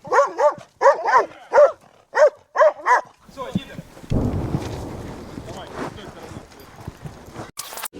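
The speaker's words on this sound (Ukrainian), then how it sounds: "пес, який сильно гавкає" A dog barks loudly and repeatedly in a quick, regular series of close, sharp barks, followed by a heavy rumbling burst of noise and scattered clatter.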